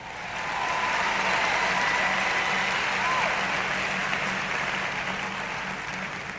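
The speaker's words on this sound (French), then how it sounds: "Allez, applaudissez Dave" A large congregation at a French-language sermon event claps in a broad, sustained burst of applause that swells quickly and holds steady before easing slightly at the end.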